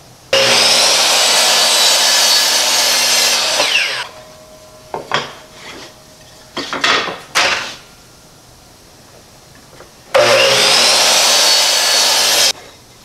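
Wood is cut freehand with a power saw for a bottle opener backboard: a loud sustained whine for several seconds, scattered knocks and handling clatter, then a second shorter cut near the end.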